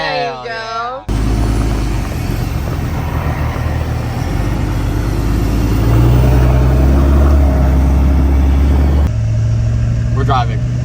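A monster truck billed as the world's largest street-legal one, its engine droning loud and steady as it drives on a road, the pitch rising and falling, with people talking over it.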